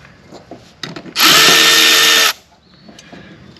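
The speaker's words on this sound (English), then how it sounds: "Now these two bolts I'm taking out, that's what holds the collar, this assembly together." A power drill runs loud and steady for about a second, loosening bolts on the collar of a 52-inch Wright Stander mower's center blade spindle, with softer clanks of handling before and after.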